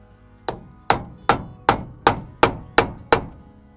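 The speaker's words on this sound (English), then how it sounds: "I'm not worried about hitting this one with the hammer" Eight sharp metallic hammer blows on a rusty locking nut of a Land Rover Series III swivel hub, in a steady, evenly spaced rhythm, close and loud, each ringing briefly before the next strike.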